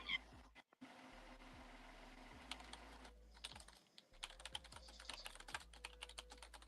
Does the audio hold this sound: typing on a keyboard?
yes